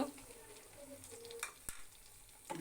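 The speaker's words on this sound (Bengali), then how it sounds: "এখন আমি মশলাগুলো দিয়ে দিব" Spices tipped into browned onions frying in a pan for a hilsa and ash gourd curry, a soft steady sizzle with a few sharp clinks of a spoon against the pan, faint and close.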